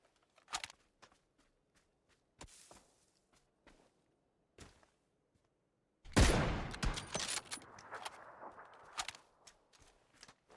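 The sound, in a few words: machine gun fire in video game PUBG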